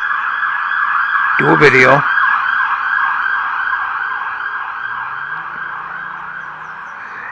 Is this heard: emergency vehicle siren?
yes